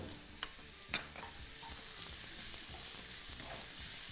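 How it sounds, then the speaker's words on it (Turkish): Onions sizzling in well-heated oil in a pan, a steady, dense frying hiss throughout with a couple of soft stirring knocks near the start. "Önce soğanları atıyorum içerisine."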